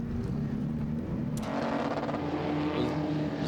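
Group A touring race cars at Winton, Australia roar past on track, a loud sustained engine drone that swells midway as cars pass close, with higher revving layered over a constant rumble and no commentary.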